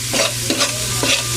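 Chopped onions, added after garlic, fry and sizzle in a pan for a Filipino bangus dish, with a steady close crackle and several rhythmic stirring scrapes spaced about every half second.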